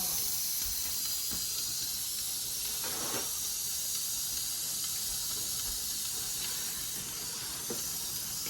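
Steady, loud broadband steam hiss rises from a hot pot of beef stew on the stove, continuous throughout with a few faint clinks and bumps underneath.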